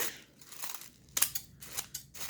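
Scissors trimming a gift tissue-paper flower: a close series of crisp snips and crinkly paper cuts, several in quick succession, fairly quiet with no talk.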